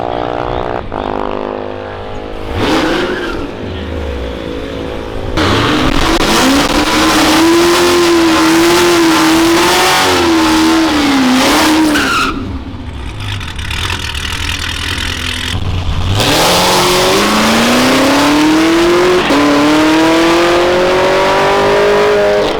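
Modified Corvette with a stock supercharger at an Anything Goes Showdown race, loud and close, the engine climbing through long rising revs with brief drops and a final surging pull, blower whine riding on top.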